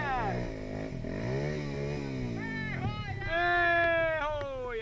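A motorcycle engine revs and bogs on a dirt trail, its pitch sweeping up and down in repeated surges, close and loud with people talking over it.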